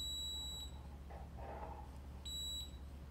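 A handheld manual metal detector gives two short, high electronic beeps about two seconds apart over a quiet background hum.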